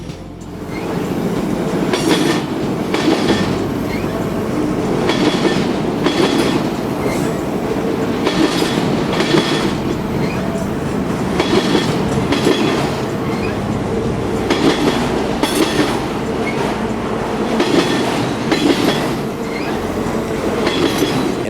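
The rear distributed power locomotive of an auto-rack freight train rumbles past close by near Atlanta, its wheels keeping up a loud, steady clickety-clack with regular rhythmic joint beats and occasional squeals.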